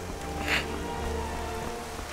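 Steady rain falls in the virtual world of Skyrim VR, a constant even hiss with a few brief louder drops. No voices.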